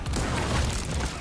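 A frag grenade goes off in Resident Evil 4 Remake with a single loud, dense boom that fills the whole moment, heard close and with no talking over it.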